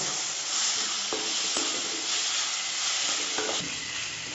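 Ginger and garlic sautéing in a hot pan give a continuous, close sizzle, broken by a few sharp stirring scrapes, with no voices.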